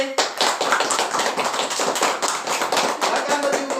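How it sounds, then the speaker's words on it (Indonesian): Classmates clap for a student group in a classroom, a brisk patter of individual hand claps at fairly close range, continuing steadily without talk. "Tepuk tangan dulu kelompok D."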